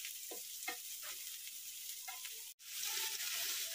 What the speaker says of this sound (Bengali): তারপর একটু ক্যাপসিকাম কুচি দিলাম, দিয়ে ভালো করে একটু ফ্রাই করে নিচ্ছি